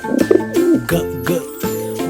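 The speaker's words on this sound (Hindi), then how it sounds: "कबूतर।" Soft, low pigeon coos repeat in a slow rhythm, a few throaty calls close by with a faint high tone underneath.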